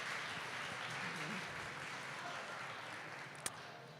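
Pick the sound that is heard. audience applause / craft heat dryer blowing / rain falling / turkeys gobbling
audience applause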